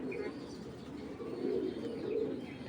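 Pigeons coo softly in a loft among kept birds, low repeated throaty calls rising and falling, fairly faint, with a few light chirps in the background.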